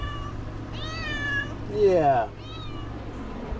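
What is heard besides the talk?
cat meowing in a chicken coop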